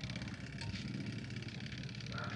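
A faulty washing machine motor with a suspected bad capacitor, powered on but not spinning, gives a steady, dense hum with a low buzz that holds level throughout.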